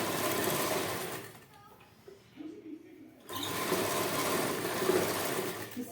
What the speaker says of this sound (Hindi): इसके ऊपर से ऐसे सिलाई करके मारनी, ऐसे करके फोल्ड करके फिर इसके ऊपर से सिलाई